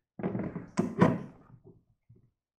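Kitchen cabinet door swinging shut on its hinges, a couple of soft close thumps followed by quieter settling knocks, near and fairly gentle, with no voices.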